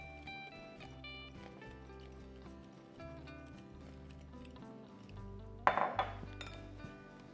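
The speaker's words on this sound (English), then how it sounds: "I'm gonna give this a whisk" A whisk rattles and clinks against a bowl of pancake batter in quick, light strokes, fairly quiet under steady background music, with a sharper burst of clatter near the end.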